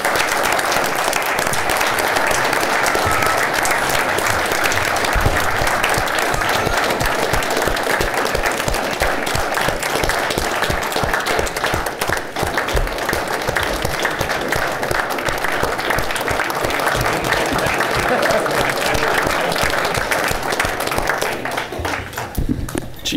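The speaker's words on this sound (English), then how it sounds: "Let's give him a round of applause." A council chamber audience applauds a retiring city employee with 25 years of service, steady loud clapping running for over twenty seconds with some voices mixed in, tapering only at the very end.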